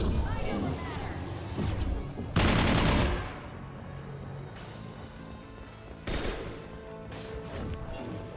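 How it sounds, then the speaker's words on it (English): Concussive shots fired in Mass Effect 2 sci-fi combat, two loud broadband blasts a few seconds apart over ongoing battle noise and clatter, with game voices talking throughout. "Firing concussive shots."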